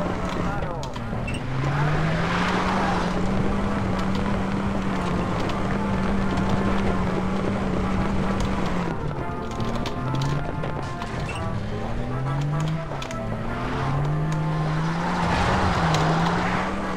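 A vehicle's engine drives along in the video game Far Cry 3, holding a steady drone whose pitch climbs and falls repeatedly as it shifts and changes speed, running continuously throughout.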